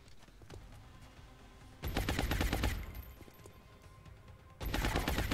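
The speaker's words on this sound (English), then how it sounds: "We can maybe rapid fire this guy." Rapid automatic gunfire from the video game XCOM Long War comes in two loud bursts of quick, evenly spaced shots over a low background hum.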